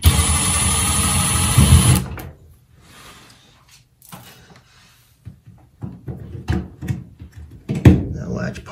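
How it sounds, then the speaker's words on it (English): A power screwdriver set to low torque whirs steadily while backing screws out of a plastic dryer door latch, then gives way to a string of faint clicks and handling knocks as the parts come loose. "if you're using a driver like this, make sure it's set on a low torque setting so we don't crack anything"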